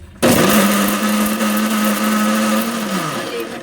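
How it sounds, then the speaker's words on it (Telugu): A mixie grinder blending ridge gourd peel chutney starts abruptly and whirs loudly and steadily at close range for about three seconds before winding down. "ఒక్కసారిగా ఎక్కువ మిక్సీ వేయకూడదు రెండు ఊరికి ఒకసారి ఆన్ చేసి"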